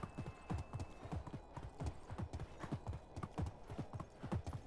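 Horse hooves clip-clop in a steady rhythmic gait in the medieval video game Medieval Dynasty, moderately close and continuous, with no talking.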